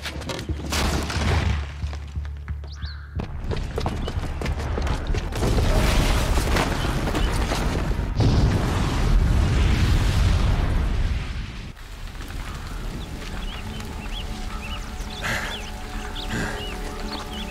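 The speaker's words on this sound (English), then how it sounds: "the booby trap on the bomb downstairs is gonna get set off" Booby-trapped bomb exploding in Horizon Forbidden West: a long, heavy explosion with deep rumbling booms building and rolling for several seconds before settling into a lower, sustained din with game ambience and debris.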